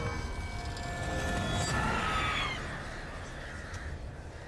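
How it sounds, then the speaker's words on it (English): Enemies in The Witcher 3 turning into crows and flying away, heard as a flurry of cawing and flapping over a steady low game rumble, rising briefly in the middle before fading. "They just turn into birds and fly off."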